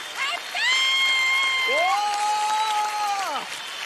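A studio audience applauds a contestant on the Indian Idol singing show; the clapping runs beneath long held vocal tones, with a cheer-like voice rising near the middle.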